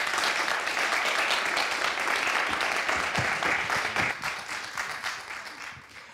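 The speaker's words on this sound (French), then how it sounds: "Vos applaudissements s'il vous plaît" An audience at a talk about dolphins and whales in the Cotentin gives sustained applause, many hands clapping steadily before gradually tapering off toward the end.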